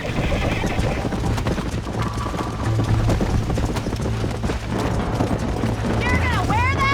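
Rapid hoofbeats of a horse galloping in Red Dead Redemption, a steady clip-clop rhythm close up, with voices talking over it and a whinny near the end.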